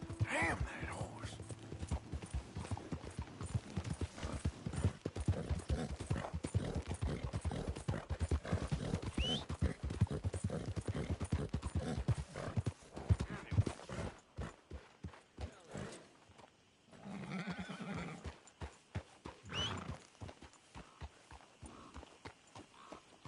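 Rapid clip-clop of horse hooves at a gallop with an occasional whinny, loud and close, later slowing to scattered steps with people speaking, in the video game Red Dead Redemption 2.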